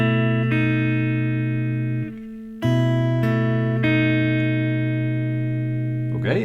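The closing chord of a song, played on guitar, rings out in sustained notes, then a brief dip and a restruck chord that sustains clearly and alone.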